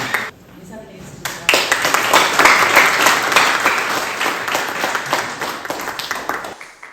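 Audience applause at a legislator's report meeting in her hometown: after a brief quiet moment, a crowd breaks into loud, steady clapping that swells and holds for about five seconds before cutting off.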